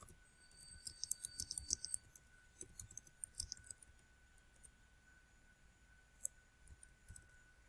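Quiet keyboard typing in uneven bursts of clicks, heavier in the first half and then sparse taps, with no talking.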